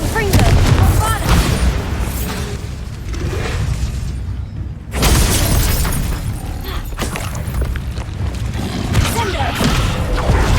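Explosive blasts and crackling spell impacts from casting Bombarda and other combat spells in the game Hogwarts Legacy, loud and near, with a sharp burst near the middle, layered over continuous dense battle noise.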